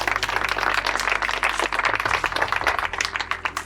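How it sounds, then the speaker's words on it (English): Applause at the launch of a community hub during a plaque unveiling, dense clapping from a gathered crowd running steadily throughout over a low hum. "Let's give him a round of applause."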